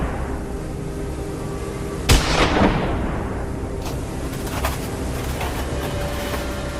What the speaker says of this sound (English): The gunshot rang out sharply